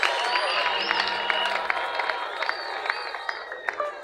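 A crowd in a stadium in Kananga applauds steadily at a church gathering, dense clapping mixed with cheers and shouts, some voices calling out over the noise throughout.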